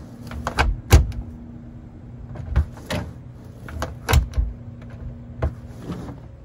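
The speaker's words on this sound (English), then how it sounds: "just watch what it does as the door closes" An old door fitted with flexible kerf weather stripping swings shut several times, giving soft thuds and knocks at irregular intervals over a low steady hum, close and moderately loud.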